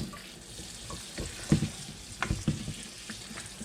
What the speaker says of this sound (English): I'm going to rinse these.